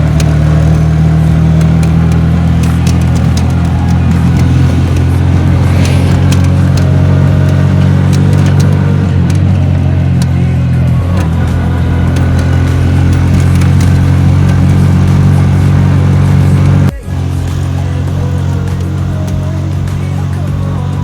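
A gas-powered Bajaj Maxima Z three-wheeler climbs a steep mountain highway toward Baguio, its engine droning loud and steady up close, with a brief dip in the strain near the end.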